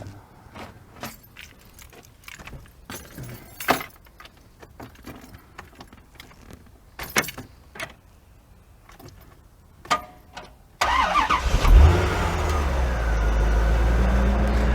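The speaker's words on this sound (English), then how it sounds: "Let's see if it fires back up." Keys jingle and clicks sound for several seconds, then a C4 Corvette engine cranks and catches, settling into a loud, steady idle close by.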